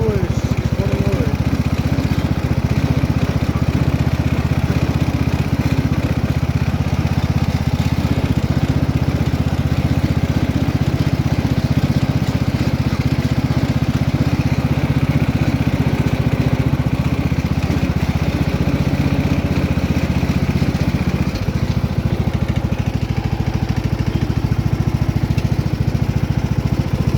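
A free riding lawn mower, whose shifter keeps knocking, runs with a loud, steady engine drone close by. The engine holds almost constant for the whole stretch, with a slight change in tone near the end.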